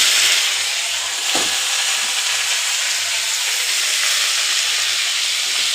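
Red amaranth greens fry in a pan with a steady, loud sizzle and hiss, broken by soft stirring scrapes as the leaves are turned after roasted peanuts, with no talking.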